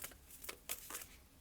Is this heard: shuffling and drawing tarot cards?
yes